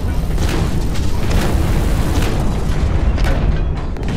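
Grenades thrown in Hawken go off in a loud, continuous run of deep booming blasts that roll into one another, with no talk over them.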